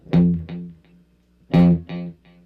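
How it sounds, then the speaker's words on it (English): Electric guitar plucked with a pick through a standard tape echo set for short slapback, two hard notes, each followed by quick fading repeats, loud and clear with no talking. "I'm using a standard tape echo with a little bit of slapback"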